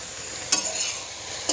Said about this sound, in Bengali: এবার শাকটা ভাজা ভাজা করব।